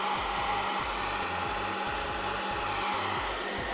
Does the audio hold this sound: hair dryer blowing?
yes